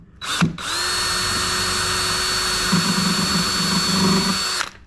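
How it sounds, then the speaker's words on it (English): A power drill bores holes during assembly of a small iron work bench, running in one steady, loud, high-pitched whine for several seconds after a brief start, with grinding load changes partway through and no talk. "I guess we can drill them holes first"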